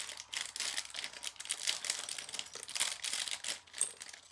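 Crinkly plastic LEGO bags rustle and crackle loudly up close in dense, irregular bursts, with no voices over them.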